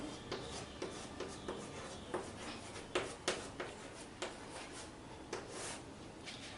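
A Hindi word is written out by hand as a faint, close series of irregular scratchy strokes and light taps, with quiet pauses between them.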